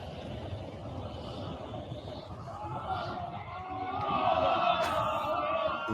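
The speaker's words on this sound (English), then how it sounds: "I want you to hear the crowd." A distant crowd murmurs and cheers, swelling louder toward the end, with a brief whistle-like tone near the close.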